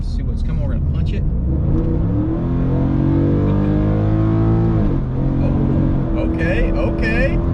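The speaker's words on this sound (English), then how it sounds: "this thing sounds so good, dude. The engine noise is very prominent." A Ford F-150 pickup's engine revs hard as it accelerates from about 35 mph, a loud, rising drone heard from inside the cab while someone speaks over it.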